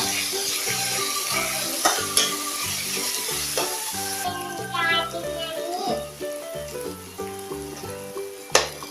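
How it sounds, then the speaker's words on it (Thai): Carrots and noodles stir-fried together in a hot pan for a child's meal, steady sizzling with scraping stirs and clinks of a utensil against the pan, close and continuous, with a voice talking over it. "ใส่ไปด้วยกันพร้อมกันเลยนะคะแครอทผัดให้สุกนะคะ"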